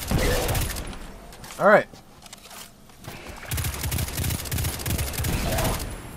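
Gunfire from Destiny 2, a single loud burst of weapon fire standing out briefly amid game effects, with someone talking over the action before and after.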